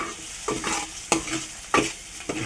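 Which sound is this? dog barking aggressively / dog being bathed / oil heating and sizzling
oil heating and sizzling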